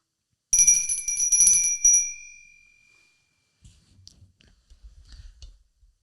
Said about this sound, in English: Shall we ring that bell?